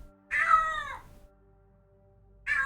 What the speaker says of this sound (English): Do you guys hear that? I heard a meow.